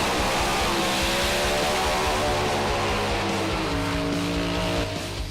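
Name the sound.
drag racing cars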